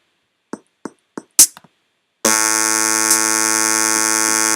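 A DubstepLife 3.0 synth preset plays four short, clipped stabs, then a loud, harsh, buzzy sustained tone that drones on steadily like an alarm.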